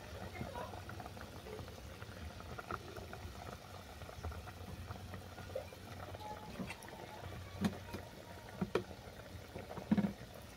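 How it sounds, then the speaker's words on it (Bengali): Bata fish is dropped into a curry broth at a rolling boil. Faint, continuous bubbling runs throughout, with a few soft plops and knocks toward the end. "ঝোল ভালো করে ফুটে যাওয়ার পর তুলে দিচ্ছি বাটা মাছ।"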